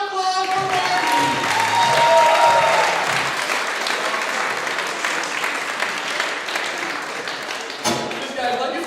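A live vaudeville audience breaks into a big, sustained round of applause and clapping that lasts several seconds, with a few voices and cheers mixed in near the start before the clapping gradually thins out.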